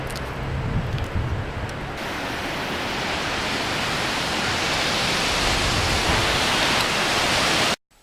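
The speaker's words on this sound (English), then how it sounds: "Number 3, this waterfall." Roaring waterfall close by, a dense continuous rush of falling water that swells up after a lighter opening couple of seconds and holds steady until an abrupt cutoff near the end.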